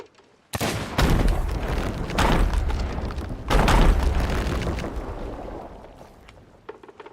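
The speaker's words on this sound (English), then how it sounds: "I threw a blunder bomb that far and just blew everyone up" Blunderbomb explosions in a pirate video game, two heavy booming blasts about three seconds apart, each followed by a long rumbling tail that fades out, loud and close with no talk.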